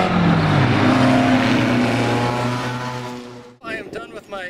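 Race car engine at Brainerd International Raceway, a loud sustained roar with rising then steady pitch, passing close before cutting off abruptly into quieter wind-like noise.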